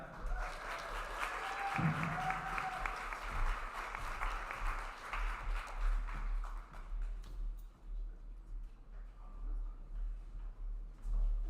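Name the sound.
audience applause for a speaker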